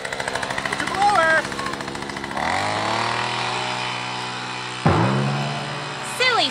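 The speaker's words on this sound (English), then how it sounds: "All right, Super Kid, let's get our blowers and get all these leaves!" Toy leaf blowers whir with a buzzing motor drone that steps up in pitch partway through, overlaid by playful electronic sound effects.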